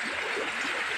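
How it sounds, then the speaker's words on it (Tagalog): River water flows in a steady, close rushing wash with a soft gurgle underneath, continuous and even with no voices. "ito yung ilog dito mga diskarte."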